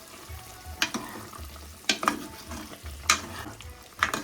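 Tempering for a Sri Lankan-style lentil and spinach curry with potato, a soft sizzle close by broken by four sharp spoon knocks and scrapes against the pot, spaced about a second apart.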